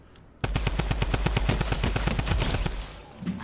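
Rapid automatic gunfire from a sniper rifle in the video game Fortnite Season 9, a loud, close burst of evenly spaced shots running continuously for about three seconds before stopping abruptly.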